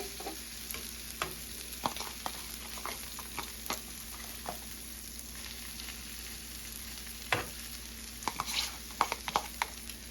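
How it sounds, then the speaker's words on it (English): Korean cabbage and egg sandwich frying in a pan, a quiet, steady sizzle with scattered clicks and scrapes from a utensil. "So then as they're frying"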